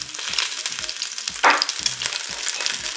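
Quails brown in a Cookeo cooker on its browning setting, a dense, loud, steady sizzle and crackle of hot fat with a brief louder burst midway and soft low thumps underneath; no voices.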